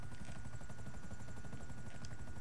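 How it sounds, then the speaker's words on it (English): Helicopter in GTA V Online, a steady low rotor drone with fast chopping pulses, continuous and fairly close throughout, with no talk over it. "Does somebody want to stay in the helicopter?"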